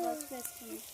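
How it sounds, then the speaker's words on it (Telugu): Onions frying in oil over a wood-fired stove give a faint, steady sizzle, with a voice audible over it. "ఎర్రగడ్డలు బాగా ఎగినాయి"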